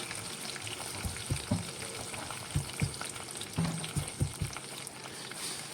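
Mustard seeds and curry leaves sizzle in hot oil for a yogurt kadhi, a steady soft frying hiss broken by irregular pops and crackles, close and moderately quiet with no voices.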